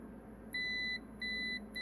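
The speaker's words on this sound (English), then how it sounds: "I can put the buzzer on as well" A multimeter's continuity buzzer gives three steady electronic beeps, each about half a second long, close and clear over a faint background hum.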